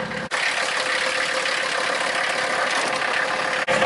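Mercedes car engine running after sitting through winter storage, a steady close idle drone with a faint vibrating rumble underneath, briefly broken by a couple of short dips.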